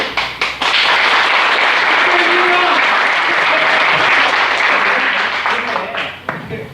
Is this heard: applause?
yes